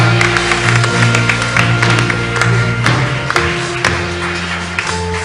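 Church congregation at a convention applauding and cheering their praise to Jesus as king of kings, a steady dense wash of clapping hands with crowd voices and music tones running beneath, loud throughout.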